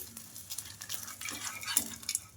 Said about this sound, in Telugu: ఈ మాత్రం మనకు బాగా ఫ్రై అయిపోతే చాలు ఇంకా కింద సైడ్ కూడా బాగా ఫ్రై అయిపోవాలి